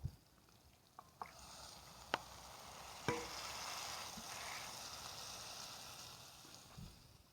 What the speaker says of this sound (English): So I go ahead and add the ackee and the saltfish to the pot right now